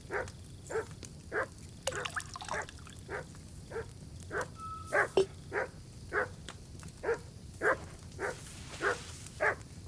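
Dog in the video game Kingdom Come: Deliverance 2 barking in a steady, evenly spaced series of about fifteen sharp barks, moderately close, over a low ambient game background.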